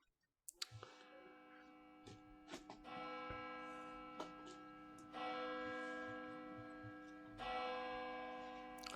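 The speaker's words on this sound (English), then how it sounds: "The bells of Jerusalem are ringing" Distant bells ring in a sustained, layered peal, with fresh strikes swelling the tone every few seconds over faint ticking clicks.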